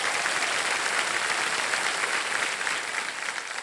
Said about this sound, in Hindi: इनको ताली बजा करके इनका स्वागत किया जाए।